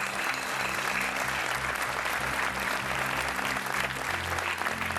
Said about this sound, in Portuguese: Um aplauso para a Maria Carvalho.